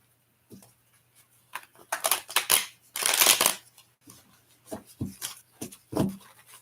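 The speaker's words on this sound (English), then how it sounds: "One more shuffle." Tarot cards shuffled by hand during a live reading, with bursts of riffling and soft slaps coming in uneven clusters, close and moderately loud, with no talking.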